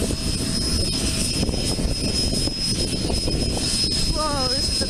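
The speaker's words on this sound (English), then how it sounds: "That's a cool aircraft, guys. Very loud, wow." A loud aircraft engine drones steadily close by at Aurora Municipal Airport, a constant roar with a thin high whine running through it, and a brief voice near the end.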